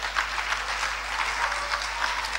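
Steady applause from a church congregation at a presbyters' induction service, dense and continuous clapping at moderate distance throughout.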